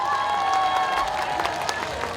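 Applause and cheering from a concert crowd at the outdoor Yes Yeoncheon festival show, a steady broad wash of clapping heard from a distance, with a sustained tone and a voice running underneath.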